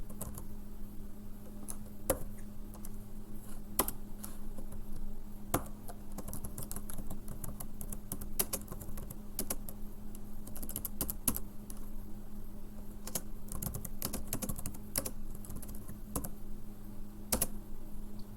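Python code is typed on a computer keyboard, a steady patter of close key clicks with occasional louder taps and no talking.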